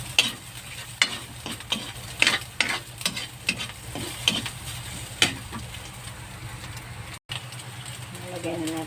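Pork fries in a pan with a steady sizzle under a string of sharp, rhythmic scrapes and clatters as it is stirred, with a short break near the end.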